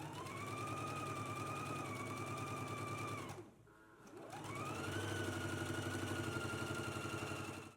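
A sewing machine runs in a fast, even whir while stitching a pants seam, pauses briefly, then revs up again to a second steady run of stitching.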